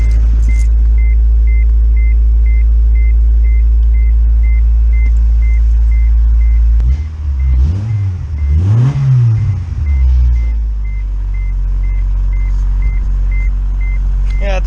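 Honda Integra car engine running steadily and loud up close, with a rattle from the shift linkage, a surge of revving in the middle and a repeating high beep throughout.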